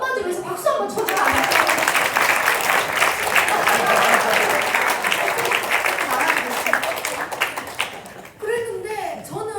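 Church congregation applauding together during a Korean worship service, dense steady clapping for about seven seconds, with a pastor's voice speaking briefly before it starts and again as it fades.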